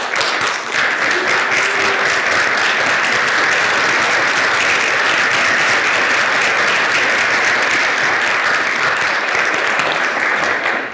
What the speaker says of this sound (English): I would like each of them to stand up right now so we can give them applause.